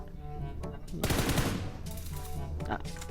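Rapid automatic gunfire from PUBG Mobile, loud bursts of shots with a heavy dense barrage in the middle, mixed with game sounds.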